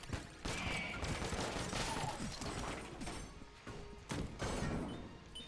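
Steady, loud gunfire in the Enter the Gungeon video game, with rapid repeated shots and impacts filling the whole stretch, dipping slightly before a strong burst near the end.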